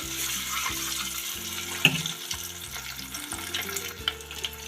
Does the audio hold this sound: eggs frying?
yes